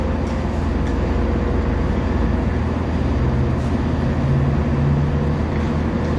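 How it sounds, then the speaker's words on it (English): A London-bound train service pulls out of the station with a steady, loud, low rumble and drone that holds evenly throughout, with no voices over it. "You can hear the London service going."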